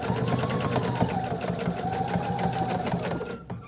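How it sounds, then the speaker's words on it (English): A sewing machine stitching along one flap of a beginner peekaboo quilt, a fast, steady, loud mechanical whir heard close and alone before it stops. "we finished sewing just right here on that one flap"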